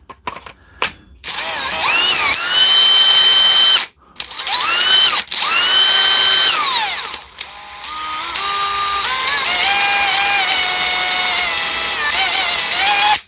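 A DeWalt power drill with a hesitant trigger runs in several bursts, its motor whining up and down in pitch between brief stops, loud and close with no talking.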